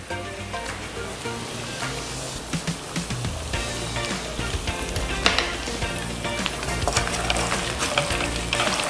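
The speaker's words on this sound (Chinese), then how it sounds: "翻炒一下就可以起锅" Sweet glazed ribs are stir-fried with cashews and white sesame, giving a loud, continuous sizzle close up. Repeated scraping and tossing of the wok runs throughout, and there is no talk.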